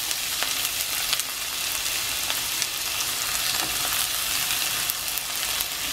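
Onion and garlic stir-frying in a pan for Japanese-style gapao basil rice, giving a constant hissing sizzle with faint stirring taps, no talking.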